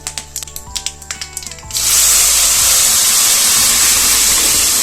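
A series of light, rhythmic clinks gives way to a sudden loud hiss as cooked bottle gourd is tipped into a hot tempering of curry leaves, and the steady sizzle then carries on to the end.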